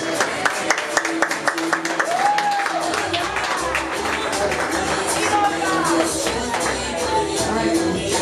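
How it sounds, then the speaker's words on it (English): Audience applause follows a children's VBS play, with scattered claps and cheering, brief vocal whoops and background chatter throughout. "Let's give King Nebuchadnezzar, Daniel, his friend, and the guard, and the helper a big round of applause."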